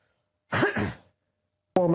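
A person gives a single short, harsh cough, then a pause of quiet, and a voice starts talking right after.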